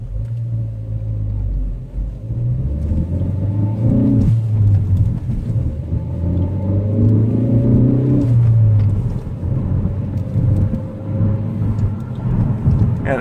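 A Ford Focus ST accelerates hard, heard from inside with a deep, loud engine drone that climbs in pitch through gears over several seconds, steady rumble throughout and no talking.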